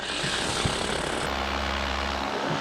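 A paramotor takes off at sunset, its propeller engine droning steadily and close, with the low hum rising and holding as the aircraft gets airborne.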